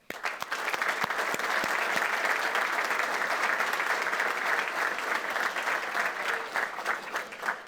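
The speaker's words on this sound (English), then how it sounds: "I'd like to give a round of applause to families as well" At a fire department recruit class graduation, a crowd gives a sustained round of applause for the families, loud dense clapping that swells quickly and holds steady before tapering at the end.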